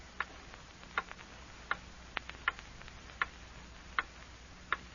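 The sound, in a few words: ticking clock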